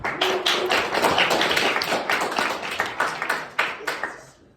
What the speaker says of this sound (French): attendez, un applaudissement